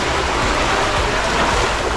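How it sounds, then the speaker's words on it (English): A rider rushes down a water slide at the Grand Wailea hotel pool in Maui, Hawaii, with loud, continuous rushing and splashing water close by. "Here I go down the slide."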